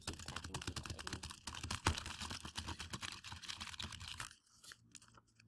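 Quick, continuous typing on a computer keyboard, close and crisp with irregular clustered keystrokes that stop near the end.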